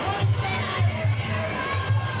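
Crowd at a combat sports fight event roaring and cheering in a continuous dense swell, close and loud, with rhythmic chanting pulses and shouts running through the babble.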